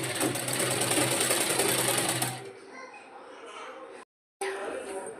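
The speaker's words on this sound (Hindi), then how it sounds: "अब सबसे पहले हम फ्रॉक के घेरे का किनारा सिलेंगे" Sewing machine stitching the hem of a baby frock, a loud, close, fast whirring run lasting about two seconds before it stops, followed by quieter handling noise and a short gap of silence.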